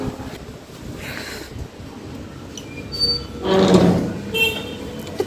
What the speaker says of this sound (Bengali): হাওয়া দিচ্ছে এখন।